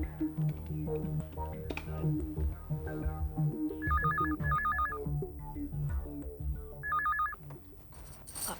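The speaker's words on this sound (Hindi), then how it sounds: "प्रिया को फोन करो।" A phone ringing tone on an outgoing call chimes in short repeated bursts over busy background music and sound, fairly loud and close.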